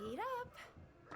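A dog lets out a brief, high whining yip close by, then goes quiet, with people talking over and around it.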